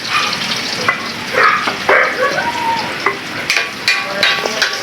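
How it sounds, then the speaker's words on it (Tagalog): Onion, garlic and chili sizzle loudly in a hot pan, a dense crackling hiss punctuated by stirring scrapes and utensil clicks near the end. "Lagay na natin yung mga rekado. Sibuyas, bawang, saka yan sili."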